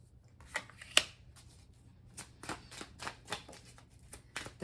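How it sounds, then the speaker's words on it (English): Tarot cards are shuffled by hand at a quiet, close range, giving a series of soft irregular riffling snaps and flicks spaced across a hushed background with no talking. "feel free to shuffle or to fast forward through the shuffling if you don't like it"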